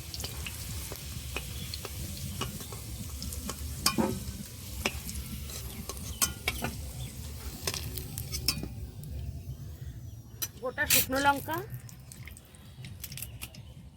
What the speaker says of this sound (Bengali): আলুগুলো লালচে করে ভেজে তুলে নেব